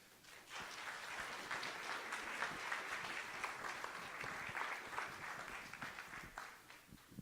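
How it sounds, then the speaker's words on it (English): Steady crowd applause at a community event for Dennis, rising quickly and holding as a dense, moderately distant patter before tapering off. "big round of applause for Dennis"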